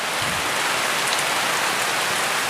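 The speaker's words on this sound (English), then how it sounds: "Let's show you how much it's raining right now." Heavy rain pours down steadily, a dense, continuous hiss of drops hitting surfaces close by, with no voices heard.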